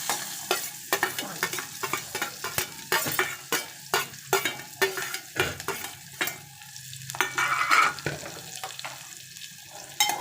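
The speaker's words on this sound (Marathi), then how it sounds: "मी एक मोठा कांदा बारीक चिरून घेतलेला मी फोडणीला घालत आहे" Finely chopped onion tossed into hot oil with a pinch of asafoetida for a Malvani-style goat lung curry, crackling and sizzling close up while a spatula stirs in quick, irregular scrapes throughout.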